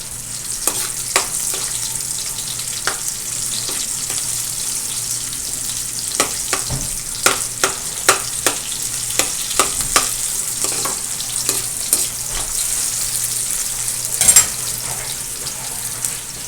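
Chopped garlic and onion frying in a pan while crab and eggplant simmer in coconut milk, a steady close sizzle broken by repeated sharp clicks and scrapes of stirring, no talking.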